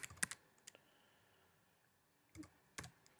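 Keys tapped on a Nokia N9 touchscreen keyboard, a quick cluster of soft clicks near the start, then a long quiet gap and two more short taps near the end, close and faint.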